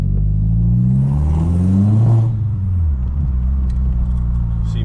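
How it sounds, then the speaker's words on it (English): A Mk4 Golf GTI with a repaired N75 boost valve accelerates on a road test drive, its engine droning and rising in pitch, then settling into a steady cruising rumble with no talk. "Let's go then, final test drive."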